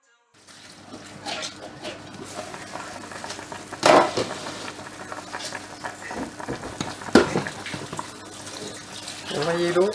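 Water runs steadily from a kitchen tap while a Moroccan meat-and-prune dish is being cooked, a continuous hiss with brief louder surges, heard under a person talking.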